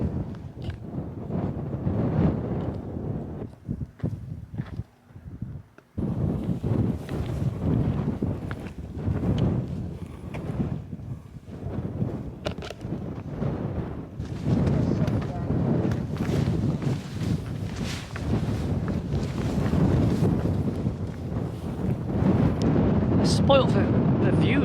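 Strong wind batters an exposed Peak District hilltop above a reservoir, a continuous loud, gusting roar buffeting the microphone throughout, with a brief lull, while a person talks under it.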